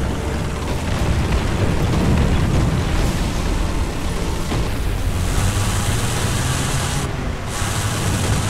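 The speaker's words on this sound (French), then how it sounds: "je viens de détruire le char parce que je l'ai eu de côté et en fait, j'ai touché l'équipage et j'ai fait exploser le" A tank blows up in War Thunder after a side-on hit, a loud, continuous rumbling blast with crackling bursts and a deep low roar lasting several seconds.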